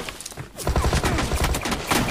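Rapid bursts of gunfire in the PUBG Mobile battle royale on Erangel, starting after a brief lull and continuing as dense, close, repeated shots over a steady game-sound bed.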